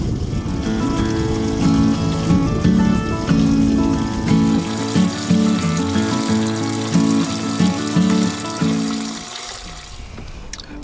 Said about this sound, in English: So this both right here and over here, as a waterfall effect, is adding aeration to the tank.